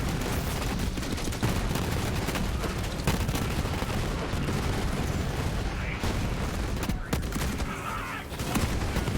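A .50 cal gun in Borderlands 3 fires in dense, continuous bursts, loud and close, with heavy booming impacts layered throughout and a voice talking underneath.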